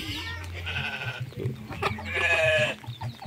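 Sheep bleating by a sheep pen in a small remote village: two loud, wavering bleats close by, with other rural noise underneath.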